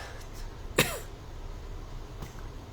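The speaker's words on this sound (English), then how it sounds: "Me coughing." A person with a sinus problem gives a single sharp cough that rises out of a quiet, steady room hum, followed later by a faint second throat sound.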